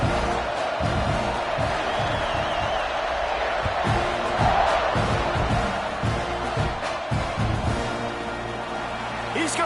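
Football stadium crowd in an NCAA Tulane versus Texas A&M college football video game, a steady loud roar with cheering swells, heard beneath continuous commentary.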